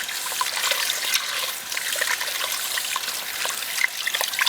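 Tap water trickles and splashes steadily over scallions being rinsed in a kitchen, a continuous close dribbling with small irregular splashes and no talking.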